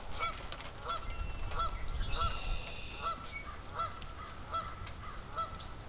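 Geese honk repeatedly in a steady series of nasal calls, moderately close, over a low rumbling background with no talking.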